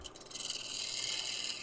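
A lathe scraper shushes softly across spinning wood with a very light touch, a steady airy hiss held close and alone.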